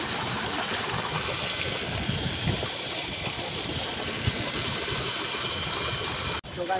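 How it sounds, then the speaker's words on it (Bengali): A shallow pump engine runs steadily, pushing water into a Bagda shrimp farm enclosure, a continuous broadband rush of motor and flowing water that holds level throughout and cuts off briefly near the end. "এই যে স্যালো মেশিনের মাধ্যমে কিন্তু ঘেরে পানি দেওয়া হয়"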